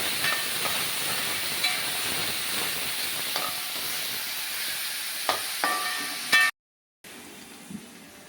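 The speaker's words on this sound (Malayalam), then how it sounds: "ചൂടായ എണ്ണയിലേക്ക് നമ്മൾ ജാതിക്ക ഇടുകയാണ്." Whole nutmeg fries in hot oil with a continuous soft hiss and sizzle, a few faint pops, then a momentary drop to silence before the sizzle resumes.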